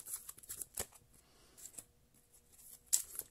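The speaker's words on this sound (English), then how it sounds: "One more shuffle, they say." A deck of cards being shuffled close up: quiet riffles and crisp flicks scattered through the clip, with one sharper snap near the end, and no voices.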